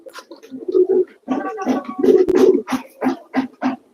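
A Shirazi pigeon sitting on eggs coos repeatedly up close, soft throaty rolling calls in short bursts with brief pauses between them.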